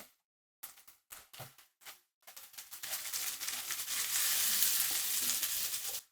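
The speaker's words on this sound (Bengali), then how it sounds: "আদা ও রসুনের কাঁচা গন্ধটা চলে যাওয়া পর্যন্ত এগুলোকে একটু ভেজে নিলাম" Onion with garlic and ginger paste frying in a pan for a prawn dish: a few short bursts of sizzling and stirring, then a loud continuous sizzle that builds and holds before cutting off.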